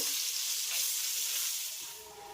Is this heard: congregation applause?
no